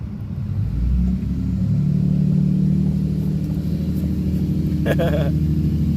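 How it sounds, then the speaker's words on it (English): A deep, steady truck engine rumble runs throughout, close and loud, with a brief higher tonal sound near the end. "That's a scary truck sound, I know."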